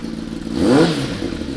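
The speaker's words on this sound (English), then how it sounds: "So I'll give it a quick fire up for you." A 2016 Kawasaki ZX10R KRT sport bike with an Akrapovic exhaust, titanium headers and decat fires up and blips once, a short rising rev that peaks and settles back to a rough idle, close by and alone.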